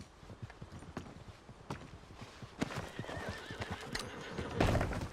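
A horse in the video game Red Dead Redemption 2 clops its hooves steadily at close range, then gives a loud, rough neigh near the end.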